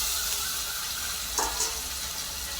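Ginger being stirred in a frying pan for khichuri, a steady soft sizzle with a couple of brief scrapes midway, close and low in level, no voices.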